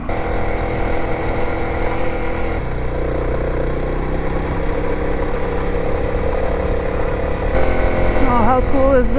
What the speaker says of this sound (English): The itsy bitsy motorbike went up the really long road.